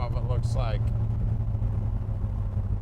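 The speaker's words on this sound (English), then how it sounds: "Sorry, there's a lot of traffic here." Road traffic passes a car dealership lift area as a continuous low rumble of engines, with a brief voice near the start.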